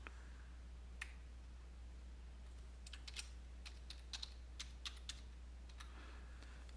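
Light clicks of a computer keyboard as a local username and password are entered at a workstation, sparse soft keystrokes in small clusters over a steady low electrical hum, faint and close.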